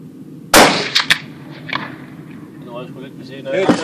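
A sharp, loud rifle shot at a 100-metre rifle range, followed by a couple of smaller cracks and clanks, with people talking quietly in the background.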